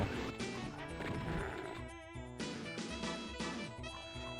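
Glass shattering in the Doom video game, a sharp crash followed by breaking clatter over a loud, steady game music track, with several further hits and smashes sounding through the music.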